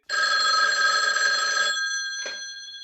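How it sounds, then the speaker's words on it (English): Telephone bell ringing in the 1979 horror film When A Stranger Calls: a loud, steady ring lasting under two seconds, then a brief faint knock or click. "the phone rings again to interrupt"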